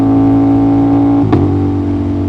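Aprilia RS660 motorcycle engine with the throttle closed, a loud steady drone whose pitch drops once partway through as the rider lets off the gas, with nobody speaking.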